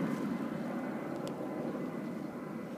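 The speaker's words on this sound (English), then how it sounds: "I like the Rolls-Royce Trent sounds." Rolls-Royce Trent engines on an Airbus A340 at JFK airport produce a steady, broad roar from some distance, unbroken by talk.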